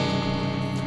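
New guitar played straight out of the box in its out-of-the-box tuning, a brief sustained chord ringing with rich harmonics at an even, steady level, nothing else audible.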